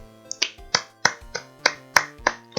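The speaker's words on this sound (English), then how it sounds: "Slow clap." Sharp, evenly spaced claps in a slow deliberate rhythm, about eight crisp hits in a row, close and clean with nothing else behind them.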